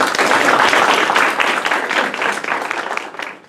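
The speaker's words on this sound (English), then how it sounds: "please join me with a warm round of applause to welcome our special guest" Sustained audience applause welcoming a guest speaker at a talk event, a dense, loud wash of many hands clapping that holds steady and then gradually thins toward the end.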